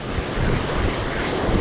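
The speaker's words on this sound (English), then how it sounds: "The waves are coming in 40 foot, so it's hard to check anything" Heavy surf in red-flag conditions, with big ocean waves crashing on a beach, makes a loud continuous broadband roar mixed with wind buffeting the microphone.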